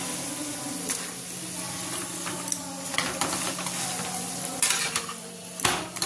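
Parathas frying in oil until reddish, a continuous close sizzle with intermittent scraping and clatter from a spatula against the pan, a few louder knocks near the end, no speech.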